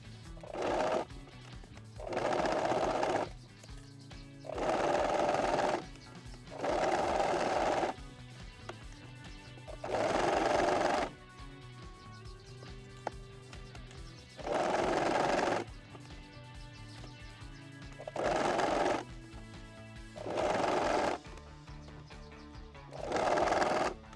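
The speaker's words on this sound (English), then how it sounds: "we're just gonna sew all along this edge here" A sewing machine stitches along the edge of an apron in repeated short runs of rapid mechanical chatter, starting and stopping about every couple of seconds, close and clear.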